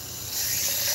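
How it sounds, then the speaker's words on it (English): A garden hose running on full sprays water with a steady, close hiss that grows slightly louder partway through, at a beekeeping setting. "And my hose here, it's on full"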